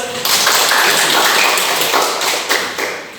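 Applause from a class gathered for a teacher's lesson, a dense burst of clapping that starts abruptly, holds loud and steady for about three seconds, then tapers slightly, with no speech over it.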